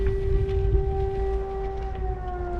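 A siren wails steadily on a windy city street in Poltava, a sustained tonal whine held at a fairly even pitch over heavy low wind rumble, with no voices.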